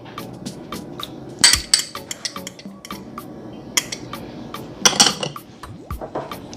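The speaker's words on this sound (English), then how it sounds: "I'm gonna add the egg, but I'm gonna beat the egg first." A fork or whisk beats an egg in a bowl, making a string of quick light clinks and taps against the sides in irregular bursts, close and fairly quiet with soft background noise between strokes.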